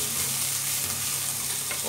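Onion sautés in olive oil in a pan for chicken tinola soup, a continuous dense sizzle, close and even throughout, with no talking.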